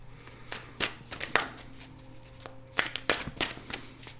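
Tarot cards are shuffled and laid out during a new moon reading, giving a series of crisp flicking and slapping card sounds in irregular bursts with a faint hum beneath, close and fairly quiet.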